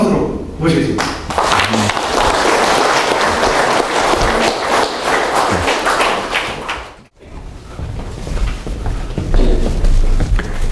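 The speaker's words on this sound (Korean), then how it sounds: "오늘 좋은 강연해 주신 윤용식 강사님을 큰 박수로" An audience applauds to welcome a lecturer at a veterans' association talk, a loud dense round of clapping close by with some thumps, breaking briefly before the clapping resumes.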